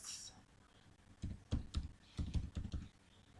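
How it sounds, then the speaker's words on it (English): Computer keyboard typing an npm uninstall command: a short burst of crisp, irregular key clicks, close and fairly quiet, with a faint pause before the strokes. "Once again, npm uninstall, then I have to type the package name here."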